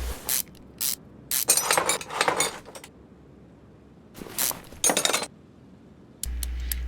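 Short sharp hissing bursts of spray in Car Mechanic Simulator 2021 come in quick clusters, separated by brief silences, with a few faint clinks near the end.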